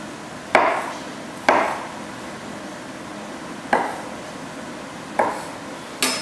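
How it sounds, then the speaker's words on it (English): A knife cutting shiitake mushroom caps into quarters on a cutting board, four or five sharp separate chops spaced a second or two apart, up close with no talk. "I'm going to take off the stems and slice the caps into quarters"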